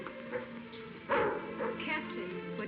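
A dog called Richelieu barks and yips in a period adventure film scene set in rooms entered by a captain, with a sharp louder burst near the middle over ongoing background sound and voices.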